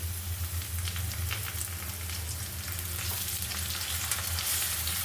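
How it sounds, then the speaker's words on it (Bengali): Garlic paste and bay leaf fry in hot oil with a steady, dense sizzle that crackles evenly and holds at the same level throughout, with no voices over it. "এবার দেব রসুন বাটা, তারপর দিলাম তেজপাতা,"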